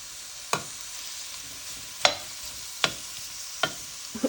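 Shrimp fry in hot oil in a pan with a soft steady sizzle, punctuated by about five sharp crackling pops or stirring clicks spaced irregularly.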